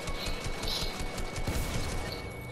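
In a video game box fight, gunfire rattles continuously in rapid, loud bursts that stay close and unbroken throughout.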